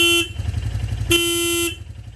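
Hella Wave 95 horn sounding its low tone on a Royal Enfield Classic 350, two loud steady honks, one short and one longer, over the bike's close, thumping idle.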